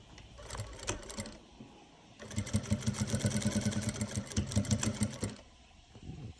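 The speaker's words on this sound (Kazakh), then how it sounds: "Қазір осыны машинкаға апарып тігетін боламыз." A sewing machine stitches quilt pieces for a patchwork pattern, with a short burst of stitching, a pause, then a longer, louder run of rapid rhythmic needle chatter before stopping; no talking.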